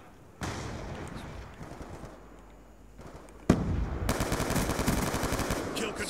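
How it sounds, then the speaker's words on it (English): Rapid automatic gunfire from a gun in the PC video game Black Ops 2, starting in bursts and then a loud sustained stream of shots, with no talk over it. "This gun's so accurate, man."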